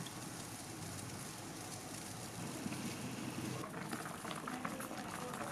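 Sliced parkia shoots blanch in a pot of boiling water, giving a steady close bubbling and roiling hiss that holds evenly throughout with no voices.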